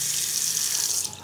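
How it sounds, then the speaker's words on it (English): Water rushes steadily down a bathroom sink drain, a close, continuous splashing hiss that lasts just over a second. "water's going down fine"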